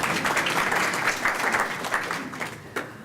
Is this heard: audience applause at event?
yes